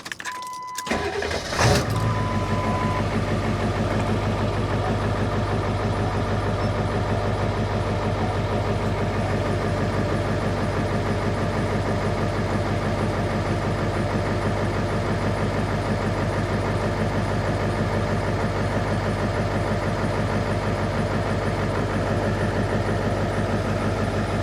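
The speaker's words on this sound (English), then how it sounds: "Now let's go ahead and do a charge test, which means we're going to have to start the vehicle." A car engine cranks and catches within the first couple of seconds, then idles loudly and steadily close by for the rest of the clip during a charging test with a battery tester.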